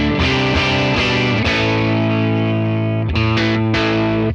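Electric guitar played through channel 1 of a Tone King Imperial preamp pedal, giving a driven, distorted tone: sustained overdriven chords ring loud and steady, then a few quick choppy stabs near the end, with no talking.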